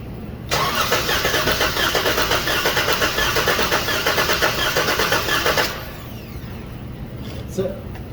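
A 2014 Chrysler 300 with a 3.6 engine cranks and starts during a compression test, a steady loud churning that runs for about five seconds before cutting out, with background voices.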